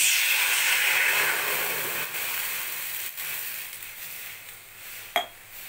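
Water heating in a wok-style pan on a home stove gives a steady soft hiss and faint sizzle, with a few small clinks and one sharp clatter near the end, no voices.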